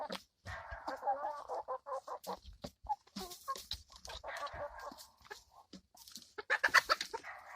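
Backyard chickens cluck in close, busy bursts with short gaps between calls, fairly quiet overall, at a Thanksgiving feeding.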